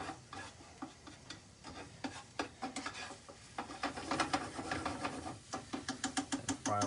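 Ginger frying in a pan with garlic gives off a soft, busy crackle of many small pops and taps that grows slightly louder toward the end, with faint stirring scrapes. There is no speech.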